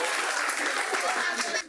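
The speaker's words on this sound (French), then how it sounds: "On l'applaudit très fort." Studio audience on a talk show clapping loudly, a bright, dense burst of hands with voices mixed in, dropping off abruptly at the end.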